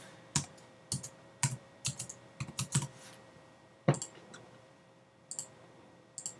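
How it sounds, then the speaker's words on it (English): Irregular clicks of a computer keyboard being typed on, sparse keystrokes in short bursts with pauses, close and fairly quiet in a still room, no voices. "Just type this in."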